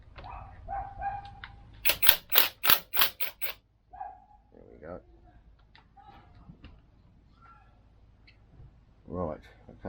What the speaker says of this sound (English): we're going to use the impact driver just to get this off. It's a 15mm nut